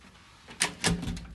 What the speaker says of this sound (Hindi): चलो भाई वापस दरवाज़ा नॉक हुआ है